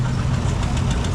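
A half-scale Altman Star tractor engine runs steadily close by, a continuous low chugging knock with a strong low-pitched hum and no gaps.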